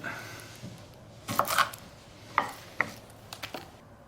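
A knife slices a shallot into rings on a cutting board outdoors at a camp cooking setup, a few sharp, uneven taps and thuds heard close by over faint background noise.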